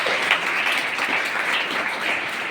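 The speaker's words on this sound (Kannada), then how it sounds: "ಜೋರಾದ ಚಪ್ಪಾಳೆ" Loud, dense applause from an audience at a religious honouring ceremony, a continuous even clatter of many hands filling the whole short stretch.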